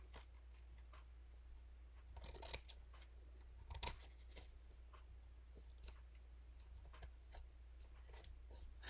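Scissors snip through paper beside a lace doily at a craft table, a few crisp close cuts scattered among quiet ticking over a steady low hum.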